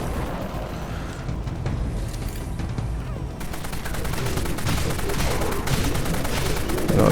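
Rapid alt-fire gunshots from a weapon in the video game Dead Frontier 3D, loud dense bursts that grow into a fast, continuous volley toward the end.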